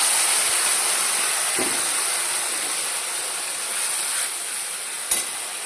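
Spice paste hitting hot oil already tempered with whole garam masala for a vegetarian paneer dish gives a steady, loud hiss that holds for several seconds, with a couple of faint knocks and no voices.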